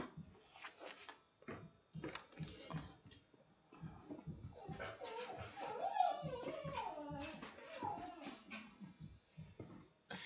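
Pet dogs whimper and yip indoors in a run of high, whiny cries and short yelps, some overlapping, at moderate distance, with brief knocks like a cupboard or drawer in between.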